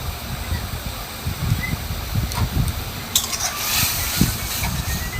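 Chili and cumin powder sautéed in a pan for potato aloo dum, a steady hissing sizzle with light stirring scrapes, partly under a person talking.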